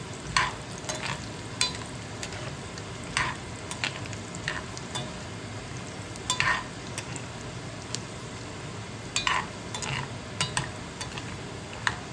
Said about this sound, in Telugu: ఇవన్నీ పొడుగు జీలకర్ర, ఆవాలు ఇవన్నీ కూడా వేగాలండి